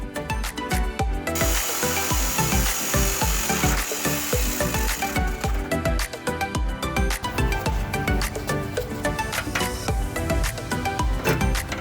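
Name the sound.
jigsaw cutting through a van seat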